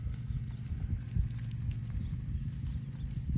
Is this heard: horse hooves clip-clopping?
yes